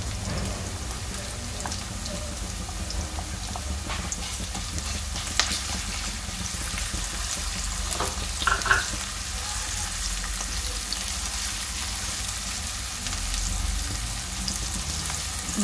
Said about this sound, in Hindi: ये देखिए प्याज हल्का सा फ्राई करना है, ज़्यादा नहीं करना, सिर्फ इसका पानी खुश्क हो जाए